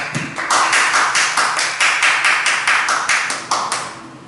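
A church congregation clapping together in steady rhythmic applause, many hands in unison with a regular beat throughout, moderately loud and slightly roomy.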